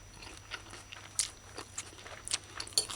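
Quiet crunching bites of crisp pepper steak and onion stir-fry, a few sharp crunches spaced irregularly over soft background noise, no talking.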